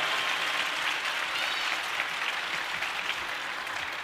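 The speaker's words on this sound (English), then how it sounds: "Crowd showing their support for their 17-year-old future star." A crowd at a professional table tennis match applauds steadily throughout, a dense, even wash of clapping with no break and no talk.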